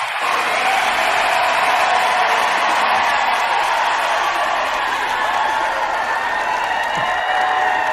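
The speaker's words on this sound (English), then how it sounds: "Let's give Lawrence a huge round of applause." Sustained applause from a gathered audience honouring a guest at a coaching and healing business event, a dense steady wash of clapping that fills the whole stretch at even loudness, with some faint voices mixed in.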